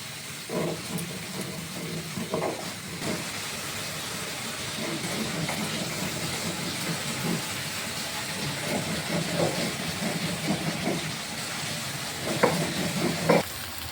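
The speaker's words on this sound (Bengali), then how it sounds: "দেখুন এই যে ভেন্ডিটা ভেজে নিচ্ছি। এই যে কিছুটা ভাজা হয়ে গেছে।" Bhindi (okra) frying in a pan, giving a steady broad sizzle throughout with occasional soft stirring knocks, close and continuous.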